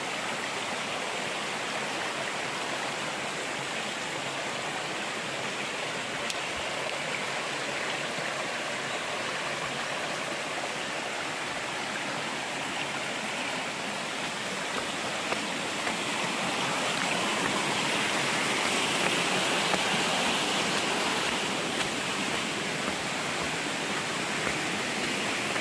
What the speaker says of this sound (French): je suis vraiment plus proche de la rivière